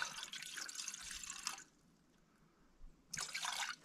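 Water running from a tap at a logging site, a soft splashing stream in two short bursts separated by a quiet pause, faint and close.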